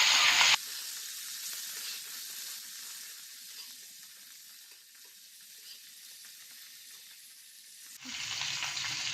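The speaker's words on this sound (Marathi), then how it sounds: "आता आपण गॅस बारीक ठेवूया आणि एक पाच ते सात मिनटं अजून भाजून घेऊया" Green chillies roasting in three to four spoons of oil in a pan on a low flame give a soft, continuous sizzle and hiss, louder at the start and end where stirring bursts in.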